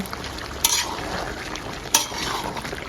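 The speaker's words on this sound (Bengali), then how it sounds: "দিয়েছি টমেটো কুচি, আপনারা চাইলে টমেটো পেস্টও দিতে পারেন। এবার ভালো করে মিশিয়ে নিব।" Chopped tomato stirred into mutton masala curry in a pan, a soft sizzle underneath two sharp clinks of a spoon against the pan about a second apart.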